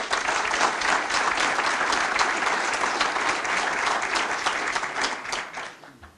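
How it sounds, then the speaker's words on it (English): An indoor audience gives a sustained round of applause, dense clapping that holds steady for several seconds before tapering off at the end. "if we can we please give them another round of applause?"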